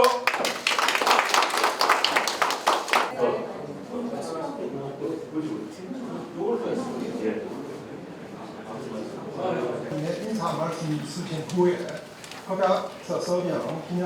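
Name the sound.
audience applause at signing ceremony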